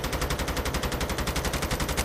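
Sustained automatic gunfire from a shooter video game, directed at a car, fires in an even, fast, loud rhythm of close shots with no pauses and no voices.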